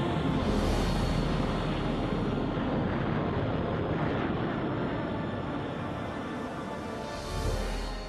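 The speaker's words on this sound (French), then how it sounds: "von Braun et son équipe parviennent à faire décoller le 3 octobre 1942 la première grande fusée de l'histoire." Launch of the first large V2 rocket in October 1942, a loud continuous roaring rush that holds steady for several seconds, with no talking.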